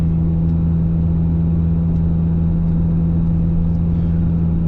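Inside a Ferrari F355 Berlinetta with its naturally aspirated 3.5-litre V8 and six-speed manual, the engine hums at a steady, loud mid-pitched drone with deep rumble, holding an even tone throughout without sharp revs.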